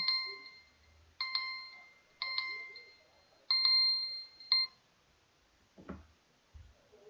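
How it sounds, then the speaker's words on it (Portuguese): A doorbell chimes in five bright, ringing bursts at a steady, uneven pace, each tone decaying quickly, followed by a few soft low thumps in an otherwise quiet room. "para despertar a atenção de qualquer um nessa campainha"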